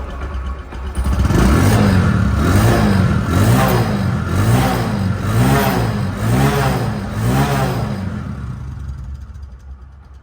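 A Bajaj Discover 100cc motorcycle in showroom-condition engine shape runs right after a single kick start, giving a loud, close, steady idle with evenly pulsing beats and slight revving before easing off near the end.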